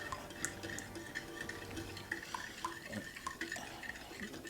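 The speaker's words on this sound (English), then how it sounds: "I'm going to go ahead and add that into my milk water mixture with the sugar. And I'm just going to go ahead and give it a stir." A spoon stirring yeast into a milk, water and sugar mixture in a bowl, soft repeated clinks and scraping with light liquid swishing, quiet and close.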